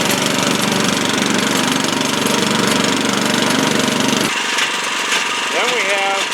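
Engine of the Triple Threat Hydramatic machine running after start, a loud, steady, close mechanical rumble that drops and shifts partway through, with a voice briefly audible near the end.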